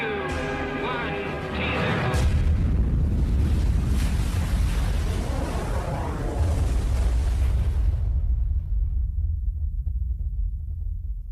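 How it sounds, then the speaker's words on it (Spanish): A deep, powerful hydrogen bomb blast roar, about 10 megatons, swells and rumbles for several seconds after some tonal sounds, then drops away abruptly into near silence. "La potencia de la explosión es similar a la de 10 millones de toneladas de TNT."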